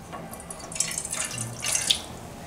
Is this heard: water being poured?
yes